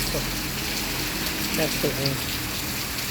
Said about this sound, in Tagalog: Lakas ng ulan mga kachika, basang-basa